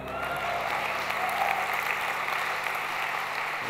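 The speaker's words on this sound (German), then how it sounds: "kriegt trotzdem einen Applaus." A church audience gives continuous dense applause, even and sustained throughout with a low steady hum beneath, fading slightly at the very end.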